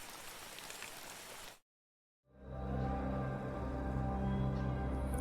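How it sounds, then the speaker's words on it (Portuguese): The first raindrops come down as a broad, even hiss on a surface. It cuts to a brief silence, then returns slightly louder and continues with no voices. "Logo, os primeiros gotejos de chuva caíram."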